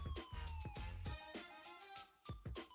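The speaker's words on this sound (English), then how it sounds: "I can hear the sirens outside." Police siren wailing outside during a games talk, rising and falling tones sweeping over several short thumps and knocks, moderately loud and somewhat distant.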